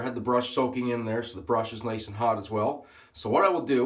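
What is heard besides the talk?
No everyday noise stands out behind the speech.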